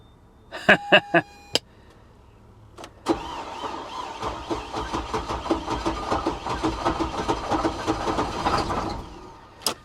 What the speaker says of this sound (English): That sounds like it's cranking real slow